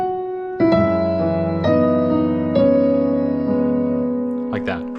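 Solo piano plays a piece from Stellar Blade with both hands, sustained chords entering in a few rolled attacks over about five seconds, steady and close, with no talking.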